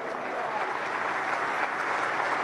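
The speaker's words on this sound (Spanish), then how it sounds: "te despedimos con un aplauso" Applause from mourners at a funeral wake for a politician, a steady wash of clapping at moderate volume, unbroken for a couple of seconds.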